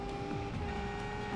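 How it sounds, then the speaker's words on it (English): A steady car horn sounds in the Need for Speed II racing game, held continuously for over a second over an engine drone. "I can honk too."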